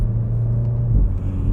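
A car on a spirited road drive with a fast-road wheel alignment: a steady, loud low engine drone and road rumble heard from inside the cabin, with a slight shift in pitch as it pulls.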